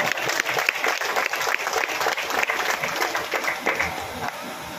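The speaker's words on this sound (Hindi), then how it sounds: "एक बार जरा ताली बजा दो" Audience applause at a Hindi comedy poetry gathering (hasya kavi sammelan), a dense, steady wash of many hands clapping that carries loud and continuous through the whole stretch with no voices on top.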